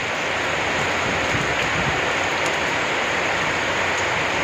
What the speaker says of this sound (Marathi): कसा आहे पाऊस